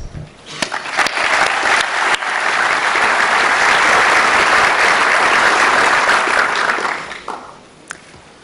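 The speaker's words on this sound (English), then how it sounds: "I think you all deserve a round of applause." An audience at an education event bursts into loud applause that swells quickly, holds strong and dense for several seconds, then fades out with a few scattered final claps.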